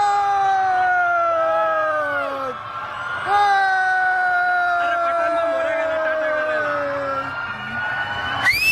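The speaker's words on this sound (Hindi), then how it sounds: "देखो इसलिए चिल्ला रहे हैं क्योंकि यहाँ पे शेख मोहम्मद आ चुके हैं।" A large crowd in Deira Naif, Dubai, shouts, whoops and chants in celebration as lockdown ends, a continuous, loud wall of raised voices with rising and falling cries throughout.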